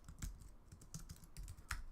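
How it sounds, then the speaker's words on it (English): Soft, quick typing on a computer keyboard, a close, quiet patter of irregular keystrokes with no voices. "If I go to my inbox, I can just start typing."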